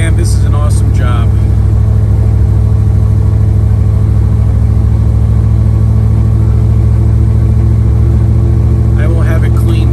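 A 1969 Chevrolet Camaro with a 502 big-block V8 idles with a steady, deep low rumble that holds loud and unbroken the whole time, with brief voices near the start and end.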